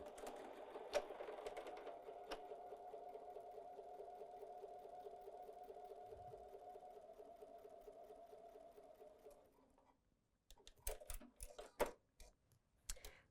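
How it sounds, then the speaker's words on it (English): A sewing machine stitches a pint-size fabric table runner with a steady, close whir for about nine seconds before stopping. A few scattered clicks and handling sounds follow. "sewing on the other side of the line"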